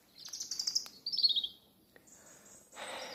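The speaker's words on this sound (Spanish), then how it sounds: "pájaros." Small birds chirp in bright, rapid trills and tweets, close and clear against a quiet rural backdrop, with short pauses between calls.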